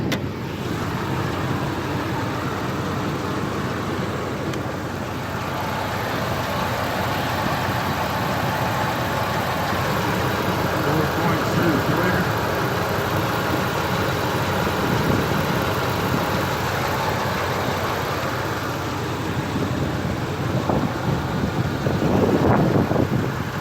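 A Ford F-150 V8 idling with the hood open, a steady low engine hum heard close, with faint clatter and a slight rise toward the end.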